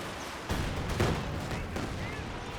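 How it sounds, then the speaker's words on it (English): Katyusha rocket artillery firing in the Company of Heroes 2 battle game, heard as a couple of sharp booming launches close together over a dense rumbling battlefield bed. "Katusha firing, trying to get Scylax off of the point here"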